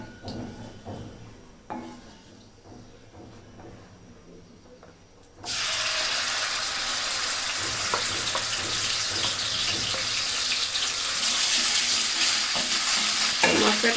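Ground spice paste for a chicken dish added to hot oil, with quiet clinks and handling at first, then a sudden loud continuous sizzle that keeps going and swells slightly toward the end.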